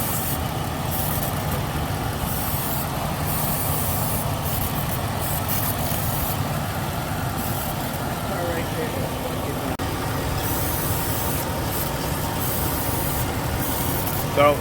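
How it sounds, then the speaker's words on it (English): A spray can hisses in steady bursts around a running engine bay while searching for a vacuum leak, with the engine idling loudly and continuously underneath. "So let me start spraying around and see if I pick up anything anywhere."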